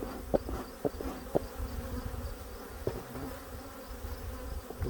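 Honey bees buzz steadily around an open hive during a late-summer inspection at the end of the season, a continuous close drone with several brief louder passes as individual bees fly near.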